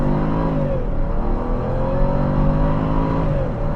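A 2010 Jaguar XFR accelerates hard from standstill toward 60 mph, its supercharged engine roaring loud and close with rising pitch through gear changes.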